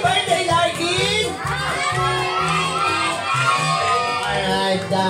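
Guests at a child's second birthday party cheer and shout excitedly, children's voices rising in a lively crowd din over thumping party music, loud and close.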